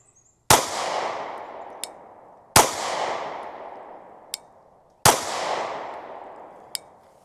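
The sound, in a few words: Derya DY9Z pistol being fired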